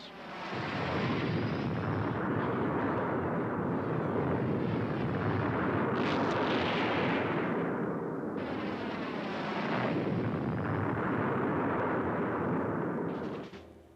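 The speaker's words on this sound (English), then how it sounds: "They decide to bomb the old city, until now spared because of its historical significance." Bombing of the old city of Hue during the Vietnam War: a dense, loud, continuous roar of blasts and rumbling impacts that barely lets up for the whole stretch, with no voices.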